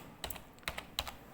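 Three short bursts of computer keyboard typing, each a quick cluster of close, crisp key clicks separated by brief pauses in a quiet room.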